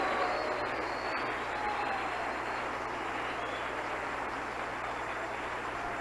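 A church congregation applauds loudly during a sermon, a dense, continuous wash of clapping that fills the room evenly and holds steady throughout with a low hum underneath.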